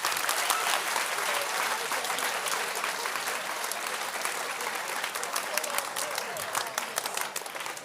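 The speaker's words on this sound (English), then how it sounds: "Now we may give everyone a round of applause" Audience at a school honors assembly claps together in a dense, continuous round of applause that holds steady throughout, moderately loud and even, with individual hand claps standing out in the wash.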